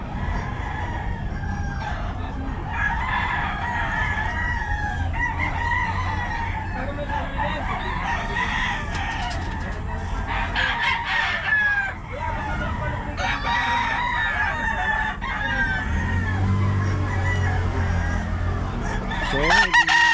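Many chickens cluck and several roosters crow repeatedly, close and overlapping, forming a continuous busy farmyard chorus in Bocaue, Philippines.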